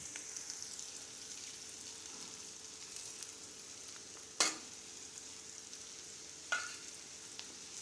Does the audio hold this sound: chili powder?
yes